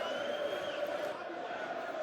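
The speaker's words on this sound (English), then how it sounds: "we've got to listen to the away fans sing their songs" Away football fans of Sheffield Wednesday singing together at Millwall's stadium, a steady, sustained crowd chant carrying across the ground with no break, dense and fairly loud throughout.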